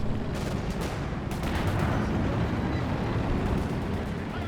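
Heavy tanks trade fire in a Company of Heroes 2 battle, a dense, continuous roar of booming shots and rumbling blasts with no clear gaps, loud and close.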